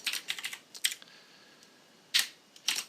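Computer keyboard typing during a coding session, with quick clustered bursts of keystrokes, a brief pause and then a few more sharp taps, close and fairly quiet.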